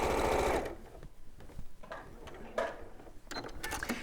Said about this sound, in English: I'm going to sew corner to corner